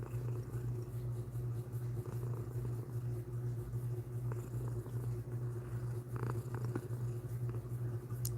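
A pet cat purrs continuously while being petted, a steady close rumble that holds throughout with faint rustling and no talking.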